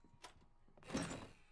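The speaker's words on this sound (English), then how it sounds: "Okay, that's it, I'm using this trapdoor." A trapdoor opens in the horror game Dead Realm, giving a faint knock followed by a soft, sliding thud that swells briefly and fades, with no voices.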